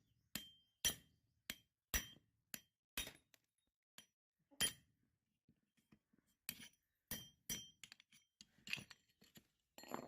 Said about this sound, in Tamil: அடுத்ததான் அந்த பேரிங்க கட்டையோட மேல் பகுதியில வச்சு பேரிங்கோட மேல் பகுதியை அடிச்சு உடைச்சு எடுத்துடலாம்.